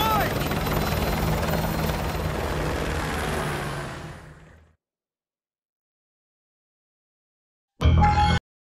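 Helicopter in the video game Call of Duty Modern Warfare 2, a loud, steady rotor and engine drone that fades out after about four seconds, followed by silence and a brief loud burst near the end.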